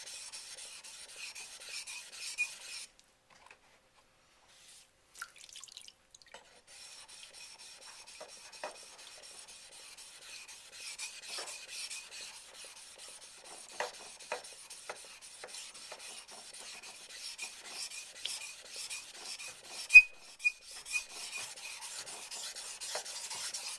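A knife is sharpened with a convex edge on a 1K waterstone, giving soft, close rasping strokes in long stretches with a short pause, light scrapes and a few sharper ticks.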